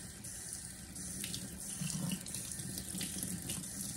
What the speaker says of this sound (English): now I'll put my hands straight down in the water just to get all the soap off